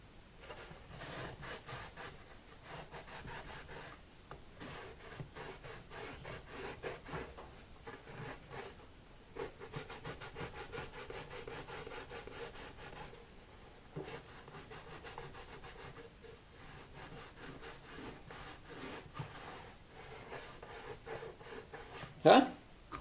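Sandpaper rubbing wood around the soundhole of a Martin D35 acoustic guitar as it is enlarged, with steady scratchy strokes running continuously, close up, ending in one sharp knock.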